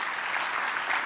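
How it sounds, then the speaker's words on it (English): A banquet audience in Palo Alto claps in a brief, dense burst of applause, many hands at once, even and sustained with no talk over it. "Let's just do a big round of applause."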